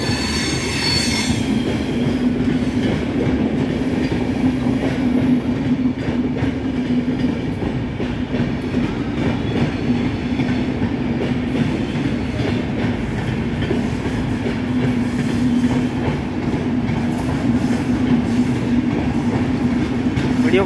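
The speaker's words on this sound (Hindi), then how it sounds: "सद्भावना एक्सप्रेस चला जा रहा है, सद्भावना एक्सप्रेस।" Sadbhavna Express train rolling past on the Indian railway, a long, loud, continuous clatter of wheels and carriages with a sustained metallic squeal, close by and unbroken throughout.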